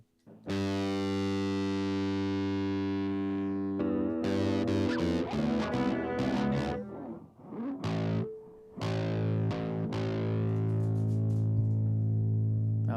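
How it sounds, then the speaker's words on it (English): An electric bass guitar played through a distortion effect, with sustained gritty notes, bends and rapid plucked runs, loud and continuous with a brief dip near the end. "I like a bass with some good distortion on it."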